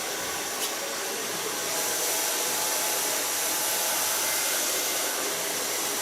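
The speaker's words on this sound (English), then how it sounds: "everybody knows that blow drying is not the nicest thing to watch" A hair dryer blows hair dry in a steady, close, loud rush of air that runs unbroken for the whole stretch, with no talking.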